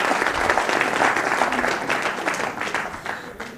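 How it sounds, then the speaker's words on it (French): A television studio audience applauds a guest on a French talk show, a loud burst of dense clapping that swells and then gradually tapers off. "On peut l'applaudir."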